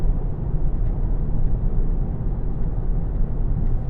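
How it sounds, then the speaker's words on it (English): Steady low rumbling road and tyre noise inside a 2016 Volkswagen Golf GTD 2.0 TDI with low-profile tyres and firm suspension at about 60 mph, a constant dull roar with no talking. "Little bit of tyre noise, which you'd expect from the low profile tyres and the harder suspension."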